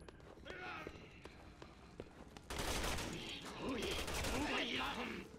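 Rapid gunfire in the video game Resident Evil 6, quiet scattered shots at first, then a loud dense burst of firing that continues to the end, with faint footsteps mixed in.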